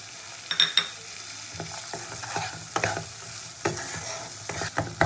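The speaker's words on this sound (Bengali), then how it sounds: "মশলা কষাতে কষাতে এবার আমি দিয়ে দেবো মটরশুঁটিগুলো।" Spice masala stir-fried in a pan for a poached egg curry as green peas are tipped in, with scattered spatula scrapes and clinks over a faint sizzle. No one talks.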